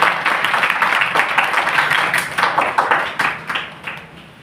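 Audience applause during a Srimad Bhagavatam religious discourse, a dense steady wash of many hands clapping close and fairly loud throughout, gradually thinning toward the end, with no speech over it.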